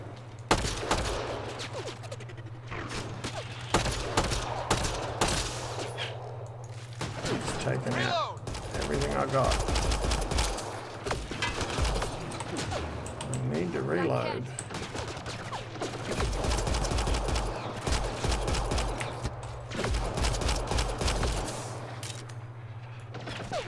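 Gunfire from a weapon in Mass Effect sounds as rapid clustered shots and bursts over a steady low hum, spread across the whole stretch at moderate level, with talk between the bursts.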